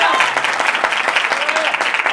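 A church congregation claps together in loud, dense, steady applause that fills the hall with rapid overlapping hand claps, a voice faintly under it.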